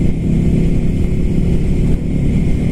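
A Ducati Scrambler Flat Track motorcycle engine chugs steadily around 4,000 RPM, a loud, constant low throb with a continuous rumble heard close up while riding, with no talk.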